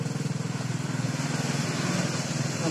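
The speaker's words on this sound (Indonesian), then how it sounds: "nyalakan motor," Motorcycle engine cranking and trying to start, a steady rapid pulsing chug close by that stays even and never rises into a rev.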